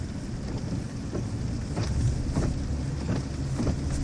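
Heavy rain during a drive on the pike, a steady loud wash of rain and road noise inside the car with faint thumps and swells, no speech.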